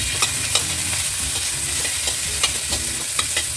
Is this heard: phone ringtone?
no